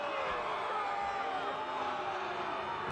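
A soccer stadium crowd in Lexington reacts to a foul call with a steady, broad roar of murmuring and shouting, moderately distant, with no clear peaks.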